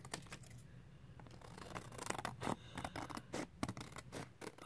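Scissors trimming a Rolodex card, a close series of quick snipping and scratchy cutting sounds in an irregular rhythm, soft and with no talking.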